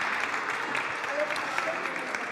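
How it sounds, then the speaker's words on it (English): Audience at a European universities alliance forum claps to welcome a moderator, with even, continuous applause mixed with some voices underneath. "Give her a big hand of applause."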